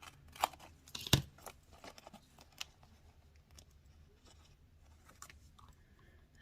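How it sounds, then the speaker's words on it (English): Scissors cut a sheet of paper in half at a craft table, giving a few quiet, close snips and crisp rustles that are louder early on before the paper is handled softly. "I need to cut 1 in half for the sombrero."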